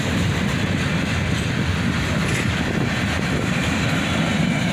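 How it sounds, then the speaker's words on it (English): A southbound freight train led by a pair of SD43 locomotives rolls past in a steady, loud rumble of engines and wheels that holds evenly throughout, with no talk. "A pair of SD43s lead the Southbound."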